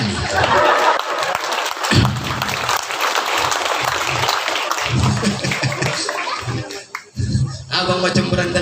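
A mosque congregation claps during a humorous sermon, with steady, fairly loud applause running throughout. Voices and some laughter mix in, with a brief dip near the end.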